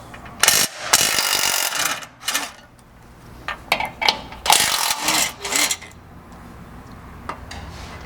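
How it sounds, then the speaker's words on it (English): A 16mm socket ratchet works bolts loose on a Jeep JL Wrangler rear hitch bracket, giving close, irregular bursts of metallic clicking and clanks with brief pauses. "you're going to need to grab a 16mm socket and temporarily drop this bracket down out of place"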